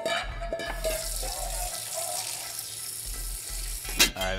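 Sweet potatoes drained and rinsed under cold running water in a kitchen sink, a steady broadband rush of tap water with splashing that swells briefly near the end, no talking.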